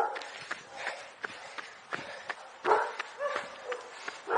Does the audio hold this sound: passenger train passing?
no